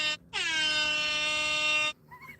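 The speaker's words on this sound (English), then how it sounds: "That's my air horn." A phone app plays an air horn in one loud, sustained blast of about one and a half seconds, a bright buzzing blare that cuts off abruptly.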